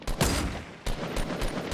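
Gunfire in Fortnite: a loud sharp shot opens, then several more cracks follow at irregular intervals, close and punchy with no voices.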